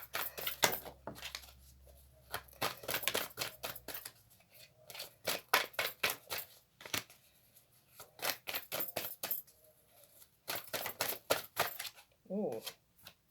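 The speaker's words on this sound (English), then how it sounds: "I'm battling with the shuffling." Rapid bursts of crisp tarot card shuffling riffle and slap in repeated rounds, interspersed with brief pauses and a short vocal sound near the end.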